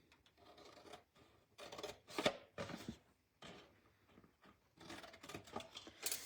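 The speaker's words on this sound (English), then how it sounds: "now with your scissors, we're gonna cut out these 4 sections right here" Scissors cutting sections out of paper for a butterfly craft, heard as quiet, close snips and crisp paper rustles that come in irregular short bursts.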